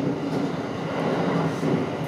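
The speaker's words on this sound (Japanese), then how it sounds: "この列車は快速シティライナー岩国行きです。" Interior rumble of a JR West 227 series rapid City Liner train departing Hiroshima on the San'yo Line, a steady loud rolling drone with faint clicking wheel noise throughout.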